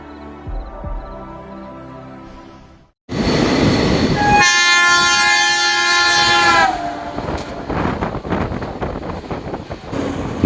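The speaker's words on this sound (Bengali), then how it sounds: "ট্রেন এত স্পিডে চলছে যে কোন স্টেশন বোঝার আগেই স্টেশন পার করে চলে যাচ্ছি।" The Lalgola–Kolkata Hazarduari Express races along at speed: a loud, steady rush of wheels and wind, broken by a long blaring horn blast, then continued rattling clatter from close by.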